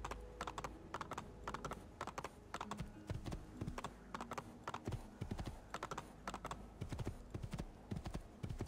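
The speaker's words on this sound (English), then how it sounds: "I might need a horse. I'm just gonna take one." A horse gallops in Assassin's Creed II, its hooves thudding in a quick, even clip-clop rhythm that continues throughout over a low game background.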